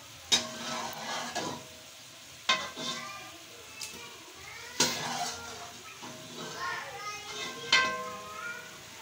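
A kilo of pre-fried, boiled chicken goes into a pot of chicken biryani and is stirred. Sharp metal spoon clanks against the pot recur every few seconds over a soft sizzle, with a person talking.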